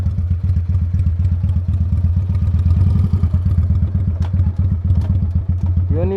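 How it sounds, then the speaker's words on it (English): A motorcycle riding through Murchison Falls National Park, its engine chugging in a loud, close, steady pulsing rhythm throughout with slight rises in revs, heard alone. "You have to travel on the motorbike."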